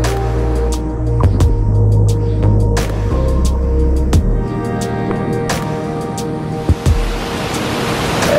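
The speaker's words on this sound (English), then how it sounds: "It's a strong current and it's so creepy." A strong, murky river current rushes in a steady loud roar, with no talking.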